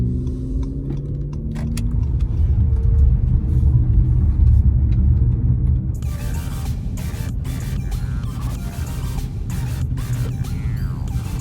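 Inside an Acura MDX with all-wheel drive while driving, a steady low road rumble and engine drone persist, with rattling and jangling noises joining in the second half.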